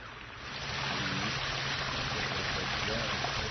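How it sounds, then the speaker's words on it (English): Steady trickling water from a garden water feature in a spacious water garden, set beside a heat pump, a continuous broadband splash that fades in over the first half second and holds evenly, with a faint low hum beneath. "enjoy listening to the sound of trickling water"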